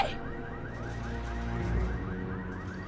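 A car alarm blares in Resident Evil 6, a steady repeating electronic warble with rising sweeps, fairly loud and continuous with no talk over it.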